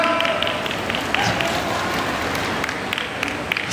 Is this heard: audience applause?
yes